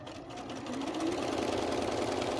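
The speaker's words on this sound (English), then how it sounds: "we're going to sew the 1/4 inch seam all the way down" A sewing machine stitches a quarter-inch seam down a quilt block, its motor running in a steady, fast mechanical whir that picks up and holds constant, close and alone.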